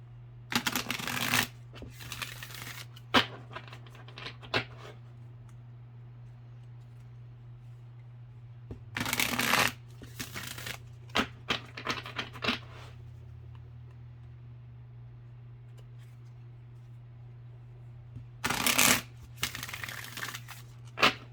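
Oracle cards are shuffled in quick riffling bursts, separated by quiet pauses. The sound is close and crisp, with a low steady hum underneath.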